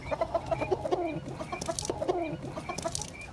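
Several native country chickens cluck and chatter nearby in a busy, overlapping flurry of short calls, with no talking.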